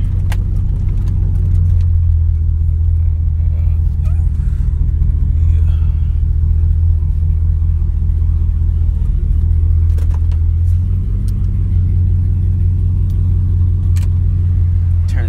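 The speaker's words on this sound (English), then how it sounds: "my dad's truck's running a lot better" A Nissan Titan pickup truck engine idles steadily up close, a deep continuous rumble with slight shifts in tone and no talking.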